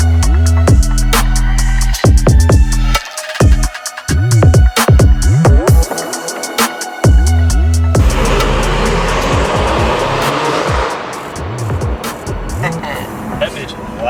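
A loud Ford Super Duty pickup truck drives past in a city street, its engine roar swelling and rumbling close by under excited chatter from several people.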